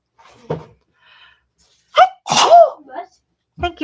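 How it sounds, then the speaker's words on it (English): A woman sneezes loudly up close, a short gasp followed by a forceful burst, with faint handling noises and brief vocal sounds around it. "She always sneezes twice."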